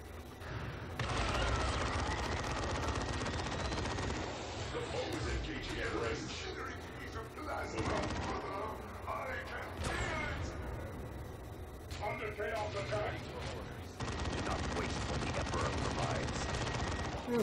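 Plasma cannon fire and other gunfire from a Dawn of War II Retribution battle, heard as repeated bursts and blasts over layered game noise, with a person talking over the action.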